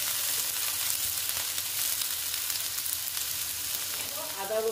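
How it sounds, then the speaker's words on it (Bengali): Onion frying in a pan while cooking a potato and flour breakfast snack, a steady close sizzle with a light crackle throughout, with faint stirring near the end. "পেঁয়াজটা আমি ভালো মতো একটু ভেজে নেব।"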